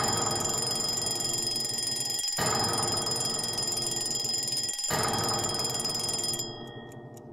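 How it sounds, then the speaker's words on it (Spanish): A loud electronic ship alarm for closing watertight doors rings continuously in long pulses with brief gaps, then cuts off near the end, leaving fainter ringing behind. "escuché sonar las alarmas para el cierre de las compuertas estancas"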